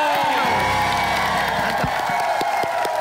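A loud studio crowd at an Indonesian TV game show applauds and cheers continuously, with whoops rising over the dense clapping.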